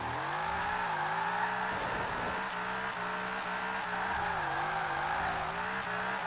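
Rear tires of a Holden race car on race tires spinning and squealing in Forza Horizon 4, a steady loud engine drone with wavering pitch and continuous wheelspin, no voices.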